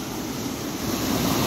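A strong river current rushes past, making a loud, steady broadband roar of flowing water with wind, close and continuous without any talking.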